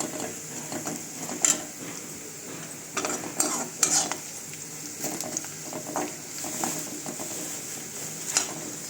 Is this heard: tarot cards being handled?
no